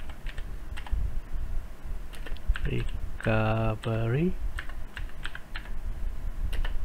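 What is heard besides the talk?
typing fastboot command on computer keyboard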